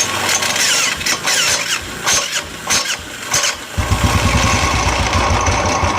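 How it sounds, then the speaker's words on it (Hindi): A Royal Enfield motorcycle's electric self-starter grinds and whirs loudly in uneven bursts before the engine catches, then settles into a close, steady thumping idle. "सेल्फ से स्टार्ट करोगे तो बहुत ज़्यादा आवाज़ आ रही है"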